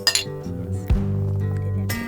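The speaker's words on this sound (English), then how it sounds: "Well, Lauren, cheers. It's the first night." Two glasses clink together in a toast on the first night of off-grid camping in Australia, a bright close chime followed by a ringing tone that sustains and fades, with a second sharp clink near the end.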